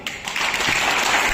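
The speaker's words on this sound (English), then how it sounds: "I want you to give us a clap" A group at a kickboxing session claps together, a short burst of steady, fairly loud applause rising quickly and holding without talk.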